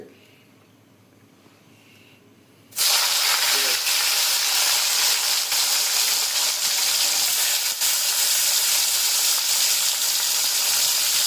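Dry fish hits hot oil and erupts into a loud, continuous sizzle after a few seconds of quiet, frying steadily and close up for the rest of the clip.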